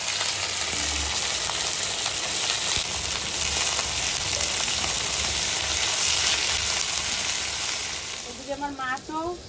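Fresh vegetables from a pond-side garden fry in hot oil, giving a loud, steady, dense sizzle that runs throughout, with a brief voice-like tone near the end.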